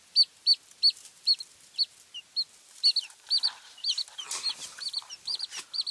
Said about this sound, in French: Au total, nous avons 10 poussins.